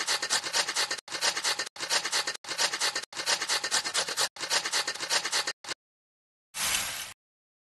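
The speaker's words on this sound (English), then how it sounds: "We need to grate this." Cheese is grated in a Masha and the Bear pizza-making video game, heard as a series of close, rhythmic rasping strokes in short bursts, then one final scrape after a brief silence.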